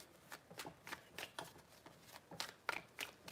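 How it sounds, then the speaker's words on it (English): Tarot cards shuffled by hand in a steady, rhythmic series of crisp riffles and taps, roughly a dozen quick strokes at close range, fairly quiet and with no voices. "3 shuffles."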